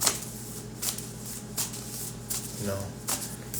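Tarot cards riffled and shuffled by hand in bursts of crisp, close flapping and sliding, with a person talking between the shuffles.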